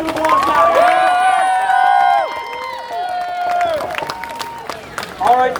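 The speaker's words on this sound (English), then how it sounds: "give Jackson another round of applause now" Lively crowd at a host's Dangerously Stupid comedy show cheers and whoops loudly, high-pitched voices, some sounding like children, rising and falling with scattered clapping beneath, then a final burst of shouts.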